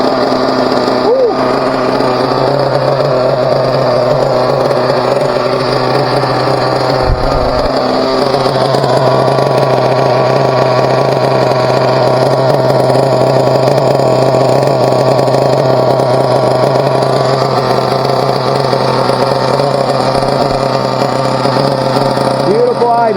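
A Team Associated RB nitro engine idles steadily during break-in, a continuous buzzy hum with a persistent whine that holds level and close throughout, with a voice talking over it.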